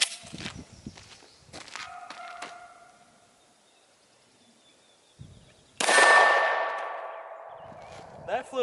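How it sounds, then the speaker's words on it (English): A 9mm shot from a Glock 17 hits an NcStar VISM IIIA soft armor panel, one sudden loud crack followed by a ringing metallic decay, preceded by quieter clanks and shuffling. "Let's step it up to 9mm on my Glock 17. So let's take a shot."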